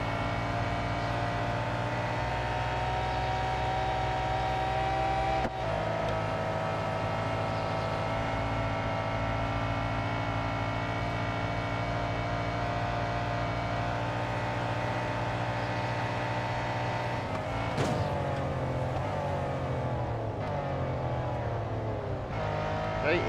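Race car engines roar continuously in the Real Racing 3 video game while slipstreaming behind another car, with a loud sustained drone and shifting pitch that includes a sharp change near the end.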